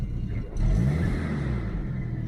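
A Nissan Skyline R32 with an RB20 engine fires up and settles into a low, steady idle rumble, close by and without talk.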